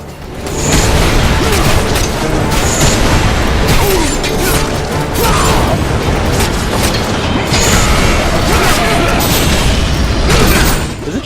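Enemy ship firing at the player in the God of War: Chains of Olympus video game, a loud continuous barrage of booms, crashes and clanking mechanisms layered over dense game noise without pause.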